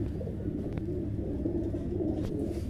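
A pigeon cooing softly, a low, continuous throaty murmur that stays faint and steady throughout, with no talk.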